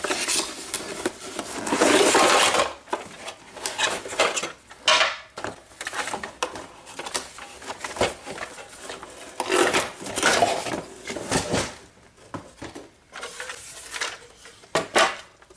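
A 12.25-inch Tim Holtz guillotine paper trimmer lifted out of its box: close, irregular scraping, knocking and rustling of packaging and hard parts, with sharp clatters spread across the stretch and no talk.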